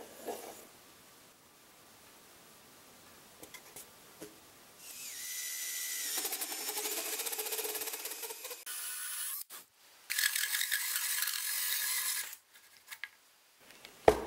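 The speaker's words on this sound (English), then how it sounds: "I'm going to drill out the bulk of this" A drill bores into wood in a workshop, with a quiet start of small handling clicks and taps, then two sustained whirring, grinding bursts of cutting separated by a brief pause, close and fairly loud.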